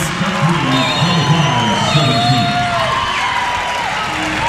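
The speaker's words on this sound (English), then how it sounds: "listen to that crowd as they celebrate the Titan victory" A volleyball crowd cheers an Oshkosh Titan victory in an NCAA Division III tournament match, a loud, sustained roar of shouts, whoops and high calls with scattered clapping, filling the gym throughout.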